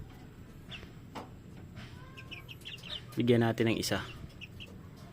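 Chicks and chickens on a farm, with soft clucking and a rapid cluster of high peeps and chirps, while someone talks in Tagalog over them.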